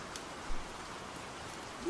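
Light rain falling outside forms a soft, faint, steady hiss with a couple of small knocks, quiet and continuous with no talking.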